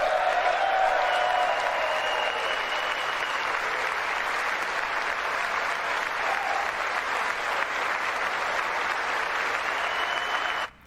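Sustained applause fills the chamber of Congress during the State of the Union, a steady, even wash of many hands clapping that continues evenly before cutting off abruptly at the end.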